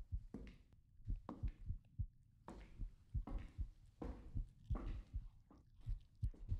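Heartbeat inside the horror video game Wrong Floor, a steady run of low, soft double thumps repeating close and alone through the whole stretch, with no talk over it.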